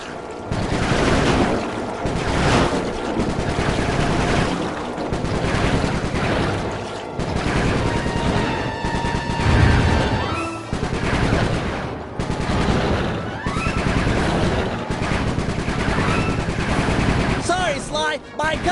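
Rapid bursts of gunfire from a boat-mounted gun in the Sly 3 video game, loud and near, firing in long chattering runs with brief pauses over engine and water noise, with voices speaking in between.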